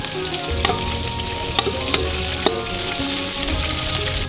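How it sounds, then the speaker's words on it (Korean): Onions sizzle steadily in a hot cauldron over a wood fire while Uzbek pilaf is being made. A dense frying hiss runs throughout, broken by occasional scraping clicks of stirring. "다음으로 가마솥에 양파를 부어요"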